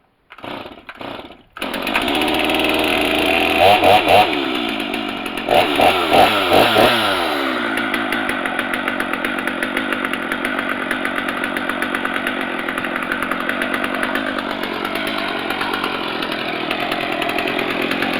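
Stihl chainsaw cold starting: a few pull-cord tugs, then the engine catches and revs in rough bursts before settling into a steady loud buzzing idle, close by.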